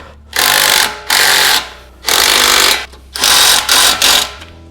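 A power tool drives suspension bolts tight while lowering springs are fitted to a 2019 Toyota Corolla Hatchback, giving five loud, close bursts of whirring and buzzing separated by brief pauses.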